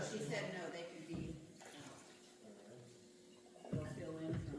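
Water from a tap runs and splashes into canning jars during a milk-canning class, in uneven bursts with pauses, under nearby conversation.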